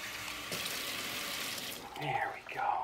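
Water splashes and trickles briefly into a ball python's water dish, close by, growing louder toward the end.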